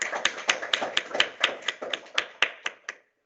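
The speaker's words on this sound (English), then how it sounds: "let's clap" A classroom of software engineering students clapping for a classmate, with distinct, fairly sparse claps in a loose rhythm lasting about three seconds before stopping.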